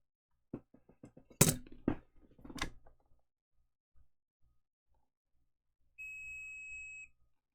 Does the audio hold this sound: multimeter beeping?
yes